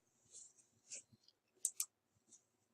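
A computer mouse clicks a few times in quick succession during CAD software work, crisp and close with quiet gaps between.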